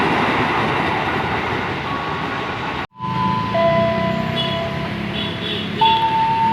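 A KRL Bogor Line commuter train riding, a steady rumble of wheels and carriage broken by a short dropout, then continued noise with faint squealing tones.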